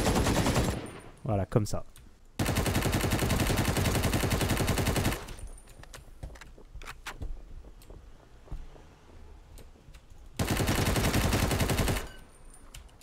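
Automatic rifle fire in the shooter game Ring of Elysium comes as long sustained full-auto bursts, two loud extended volleys with a shorter burst at the start and scattered single shots between, under brief talk.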